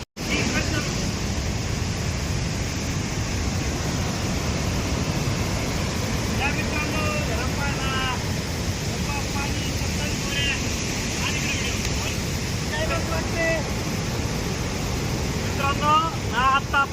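Water pours through the 27 fully open gates of Nathsagar dam in flood, a steady broadband roar with wind buffeting the microphone and faint voices now and then.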